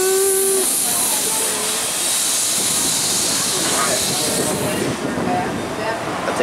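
Steam train on the Cedar Point and Lake Erie Railroad, with a steady hiss of steam and rolling rail noise throughout, a brief whistle-like tone at the start, and faint voices in the background.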